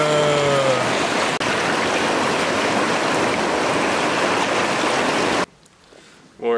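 Deep, fast-flowing river water in the Catskills rushes in a loud, steady broadband roar up close, then cuts off abruptly near the end, leaving a brief quiet stretch.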